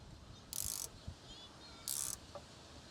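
A brake adjuster on a 4x4 heavy truck is tightened, giving two short bursts of metallic ratcheting clicks a little over a second apart, close and clear against quiet background.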